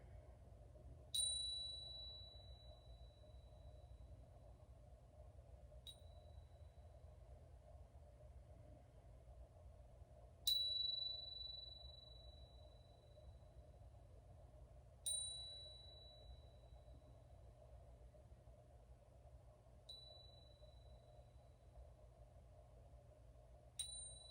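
Chime bell struck to pace breathing in a yoga session, five or six clear ringing strikes spaced about five seconds apart, each decaying slowly over a low steady hum.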